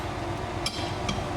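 A hammer strikes a coned bolt during clutch work on a Toyota Corolla in a garage, giving two sharp metallic clinks about half a second apart over a steady background hum.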